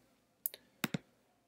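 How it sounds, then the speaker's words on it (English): A computer mouse clicks four times in two quick pairs, close and crisp against quiet, used to copy a URL during a software tutorial. "click this icon to copy the URL"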